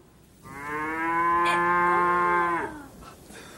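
A person imitates a cow's moo with a homemade invention, producing one long, loud, tonal lowing call that swells and then stops abruptly.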